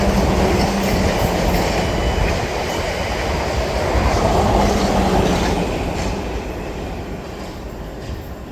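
A passenger train on the Weymouth to London service rushes past St Denys Station, a loud, continuous rumble and rattle of wheels on rails that holds steady for the full stretch and eases slightly toward the end.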